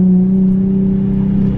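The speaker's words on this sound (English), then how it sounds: "Second gear slide." Nissan 350Z revving hard as it accelerates into a second-gear slide on wet ground, a loud, steady close engine drone held throughout with no talking.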